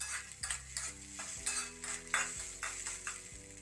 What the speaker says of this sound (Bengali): তারপর ভালোভাবে মিশিয়ে নিন।